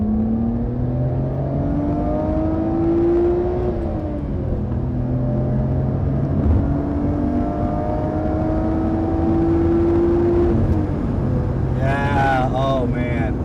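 A Nissan Skyline R32 drives along with a loud, close engine drone, climbing in pitch through the gears with several shifts, then revving hard toward the end, recorded from inside the car.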